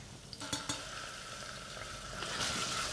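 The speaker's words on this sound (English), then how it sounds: "I've just put a little bit of onion in there to see if the oil's hot enough" Chopped onion sizzles in hot olive oil in a pot, a steady bright hiss that grows slightly louder, with a couple of sharp utensil clinks near the start.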